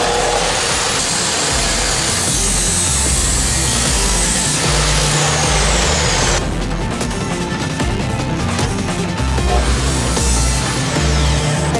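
A power saw cuts pieces for a 55 by 20 centimetre wooden frame, a loud, continuous, close grinding roar that keeps going throughout with a slight change in texture about halfway.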